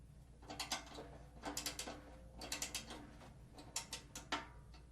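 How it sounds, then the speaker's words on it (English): A Gibraltar SC-RK medium-weight drum ratchet key turns a drum tension rod, producing close, crisp ratcheting clicks in quick rhythmic bursts with short pauses between them. "This is the SC-RK. It's a medium weight drum ratchet key, and it's really good for putting on a drum head pretty quickly."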